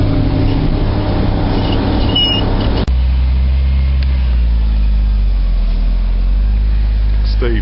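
A Volvo truck loading a drop deck trailer churns through deep mud with a heavy, close engine rumble and a low droning growl, and one sharp knock partway through.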